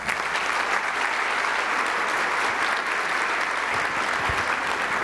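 A conference audience applauds after a talk, dense sustained clapping from many hands filling the room, steady and fairly loud throughout.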